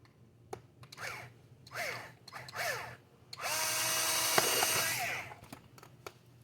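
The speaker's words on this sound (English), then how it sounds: "So I just run it down till it's touching and drill right there." A power drill bores a hole through an RC buggy's plastic rear wing during mounting, with a few short motor revs followed by one sustained, loud drilling burst up close, then quiet.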